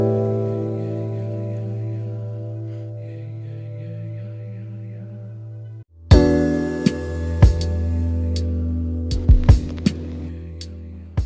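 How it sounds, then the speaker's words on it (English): A dog grooming dryer with a flat nozzle blowing over a straight-coated dog: a steady harmonic motor hum that jumps abruptly louder and harsher midway, with a few sharp clicks and knocks over the whirring drone. "notice how I'm using a flat nozzle to dry Nina's hair"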